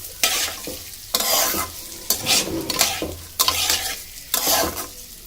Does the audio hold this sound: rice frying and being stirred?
yes